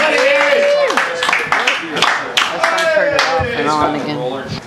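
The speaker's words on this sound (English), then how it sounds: "I want you clapping up right now for the one, the only, Mr. David Allen!" Audience applause at an open mic comedy night in Melbourne, Florida, greeting comedian David Allen: a steady, close wash of hand claps lasting several seconds, with voices calling and talking loudly over it throughout.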